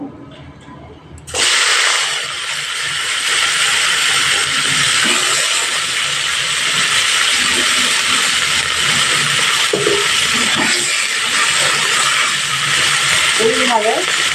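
Moringa drumsticks, still damp from draining, drop into hot oil for a light fry. A sudden loud sizzle flares and then holds as a steady, close hiss, with a voice faintly audible underneath.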